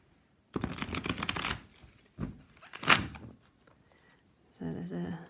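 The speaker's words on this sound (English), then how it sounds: "Give it a quick riffle." A deck of cardstock cards is riffle shuffled in close bursts: a rapid fluttering riff, a short second ruffle, a sharp snap, then quieter handling, with a voice speaking near the end.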